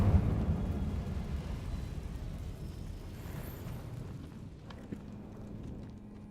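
An Incendio fire spell cast in Hogwarts Legacy bursts into a loud, rumbling whoosh of flame that slowly fades into a low crackle.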